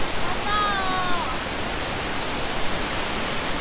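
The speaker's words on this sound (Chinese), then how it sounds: "这种瀑布怎么能不被世界看见呢？" Taigulafasi waterfall in Pingtung, Taiwan, a steady dense roar of falling water heard up close, broad and unbroken throughout, with a faint whistle-like tone early on.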